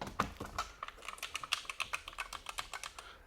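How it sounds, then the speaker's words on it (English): Quick bursts of keystrokes on a red-switch mechanical keyboard, close and fairly quiet, clicking in an uneven rapid rhythm with short pauses between runs. "I actually have a mechanical keyboard. It's a red switch keyboard somewhere in here."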